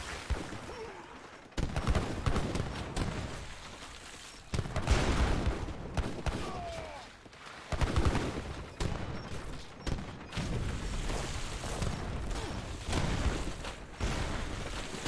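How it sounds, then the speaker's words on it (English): Heavy cannons fire over and over in an Age of Empires battle, a steady barrage of booming shots and impacts layered with constant clattering combat noise throughout. "A lot of heavy cannons from him as well."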